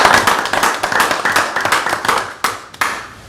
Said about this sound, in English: we give him another round of applause